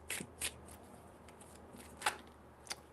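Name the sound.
shuffling tarot cards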